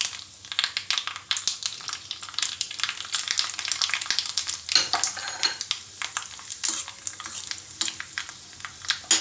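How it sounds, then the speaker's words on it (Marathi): Mustard seeds, broken dried red chillies and curry leaves sizzle and crackle in hot oil in a small kadhai, a continuous close frying hiss with sharp pops and occasional stirring clinks. "आता इथे छोटीशी कढई घेतली मी आणि पाव चमचा मोहरी आणि 2 लाल सुक्या मिरच्या तोडून घेतल्या"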